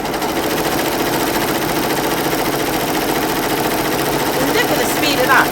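A Happy Japan HCS3 embroidery machine stitches at high speed, about 850 stitches per minute, a fast, even mechanical whirring and ticking held steady throughout under a speaking voice.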